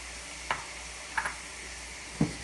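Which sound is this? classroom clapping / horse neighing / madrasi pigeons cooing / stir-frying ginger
stir-frying ginger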